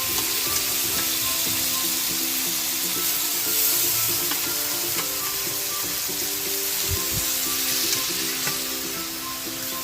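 Constant oily sizzling and crackling from a hot pan as mung beans and pork are sautéed, with occasional scraping of a utensil stirring the food, steady throughout.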